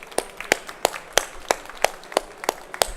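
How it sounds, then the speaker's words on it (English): Clapping at a seminar: about nine sharp, evenly spaced claps in a steady rhythm over a few seconds, sparse rather than a full crowd round, fairly close and clear with no talking. "Give yourselves a huge round of applause."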